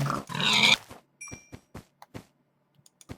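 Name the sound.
pig grunting in Minecraft video game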